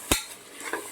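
A spoon stirs and mixes chicken biryani in a pot, giving one sharp clatter followed by a softer scrape a moment later, close up against a quiet background.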